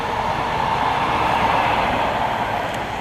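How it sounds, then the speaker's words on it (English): A train rushes past on a busy seaside railway line, a loud, steady broadband roar of wheels and carriages filling the whole span without a break. "Sorry, let this train go past. It's a very busy line, actually, this."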